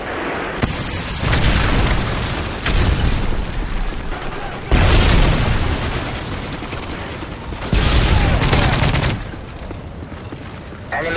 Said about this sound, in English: Predator missile is ready to be launched. Friendly Predator missile inbound.